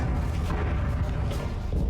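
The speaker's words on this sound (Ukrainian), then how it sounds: "Стрілкові бої, артилерія, міномети працюють." Distant heavy booms and thuds of artillery and mortar fire in the battle for Bakhmut, rolling over a constant low rumble, with a few sharper bursts.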